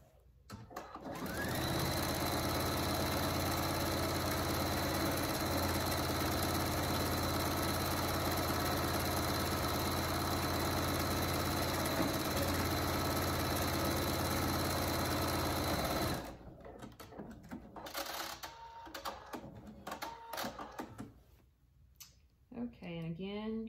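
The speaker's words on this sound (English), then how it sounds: "you're going to sew around the bottom of this to secure it down" A sewing machine stitches steadily around the bottom of a fabric pouch, a close, loud mechanical whir with fast ticking that runs for about fifteen seconds, then stops, leaving quieter handling noises and brief sounds of fabric being moved.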